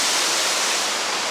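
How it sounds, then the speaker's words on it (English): Bridal Veil Falls, a waterfall in the Columbia River Gorge of Oregon, roars as a steady, loud, broadband rush of falling water with no pauses, heard up close and alone. "So to be fair to the Bridal Veil Falls here in Oregon"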